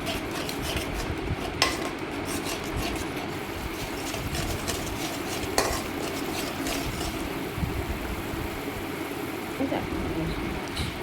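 Turmeric and spices being stirred into cooking vegetables for kakrol posto, a steady clatter of a spoon against the pan over a continuous soft frying hiss, with a few sharper knocks.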